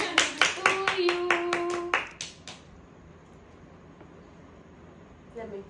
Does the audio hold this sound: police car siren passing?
no